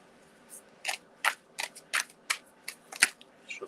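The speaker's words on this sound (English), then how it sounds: "Shuffling the cards here." Tarot cards shuffled in quick bursts, about a dozen short crisp riffles and slaps in an uneven rhythm, close and fairly clear over a quiet background.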